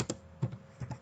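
Three crisp key clicks from a computer keyboard as C code is typed during a programming lecture, close and clear with no talking.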